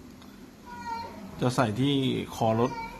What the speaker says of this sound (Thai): จะมีเสียงแมวร้องเหมียวๆนะครับ